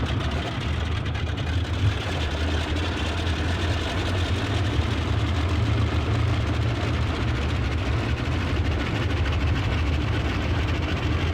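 Twin radial engines of a Boeing 247D in Flight Simulator 2020, heard from outside the aircraft, give a continuous, loud, low droning rumble that stays steady throughout with no voices.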